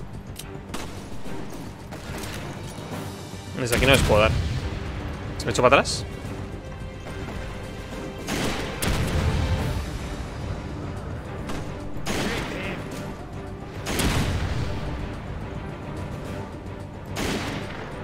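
Rocket launcher fire and explosions in the video game Resident Evil 5, several heavy booms spaced a few seconds apart, with a player talking over the action throughout.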